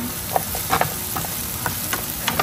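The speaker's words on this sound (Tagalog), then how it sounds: "Stir fry." Vegetables stir-fried in a covered pan, a steady close sizzle with scattered scraping clinks of a utensil against the pan and no talk.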